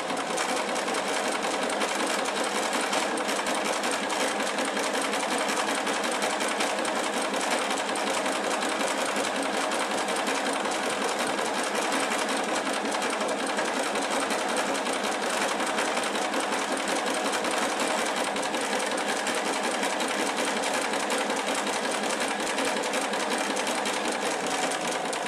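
A sewing machine runs steadily, stitching a child's neckerchief from jersey or cotton fabric, with an even, unbroken mechanical whir that is close and fairly loud and carries on alone the whole time.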